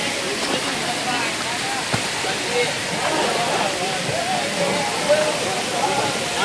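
Swollen water rushes at the Jatashankar falls, a loud, steady roar of flowing and splashing water, with a person talking over it.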